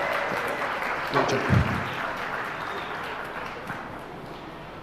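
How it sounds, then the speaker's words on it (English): Applause from the audience at a youth livestock goat show, honoring the market goat champions, broad and moderately loud, with a brief voice offering praise partway through. "Give them both a big round of applause."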